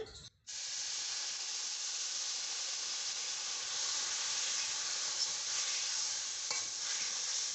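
Water is poured into a hot pan of semolina pilaf seasoned with sugar, setting off a sudden loud hiss that continues as a broad, steady sizzle and steam rush for several seconds, close up.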